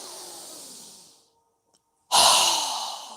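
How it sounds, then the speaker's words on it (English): Forceful exhales through a wide-open mouth during yoga breathing: a long, fading breath, then a pause of silence, then a sudden loud, rushing exhale close to the microphone. "exhale with a strong breath with our mouth open wide"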